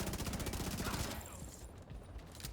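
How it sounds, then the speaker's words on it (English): Enemy machine gunner firing in The Division 2, a rapid burst of automatic gunfire up close for about a second before it drops to quieter scattered shots and game ambience. "Just gotta watch this machine gunner."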